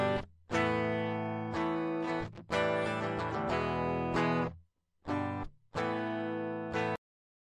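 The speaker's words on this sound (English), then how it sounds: "what you're hearing is actually the sound directly from my guitar's pickups" Clean, dry electric guitar chords straight from the pickups with no effects strum in short phrases, bright and thin, with brief silences between them.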